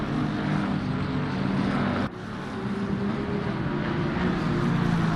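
Aston Martin V8 GT3 race car on the Paul Ricard circuit in Assetto Corsa Competizione: a steady, loud engine roar held at high revs, with a brief dip from an upshift midway before climbing again.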